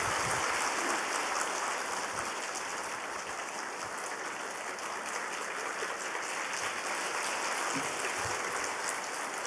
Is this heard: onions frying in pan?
no